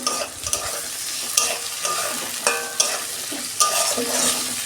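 Ginger-garlic masala with tomato sizzling in a pan as a spatula stirs and scrapes, sharp clinks and scrapes popping out over a steady frying hiss, close and fairly loud.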